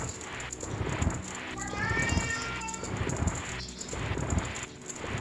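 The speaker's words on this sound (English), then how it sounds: "that was my cat meowing." A cat gives a brief, rising meow, faint beneath a steady background hum and soft thumping noises.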